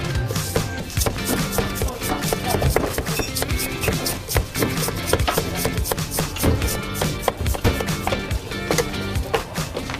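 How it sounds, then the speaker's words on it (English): A knife chops through Giant Napoleon fish meat on a cutting board in quick, crisp, irregular strikes that continue steadily, close and fairly loud, with no talking. "The clean cuts, the crisp sounds, each piece perfectly uniform."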